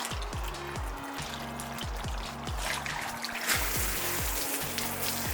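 Water poured and trickling over a new turtle enclosure being wetted down, a continuous splashing flow with rhythmic low knocking underneath, close and steady throughout.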